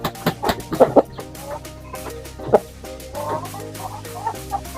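Heavy barako rooster of Shamo lines clucking close by in a backyard, a string of short uneven clucks and throaty calls with a few louder bursts, other fowl faintly audible behind.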